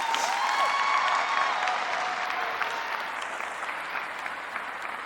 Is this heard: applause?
yes